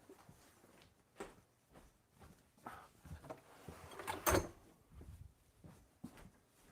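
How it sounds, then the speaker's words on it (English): A back door is shut at home, with shuffling and handling noises building to a sharp, loud bang of the door closing, followed by a few softer knocks and movements. "Let me just shut the back. My door's still open."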